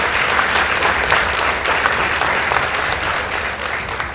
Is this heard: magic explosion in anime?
no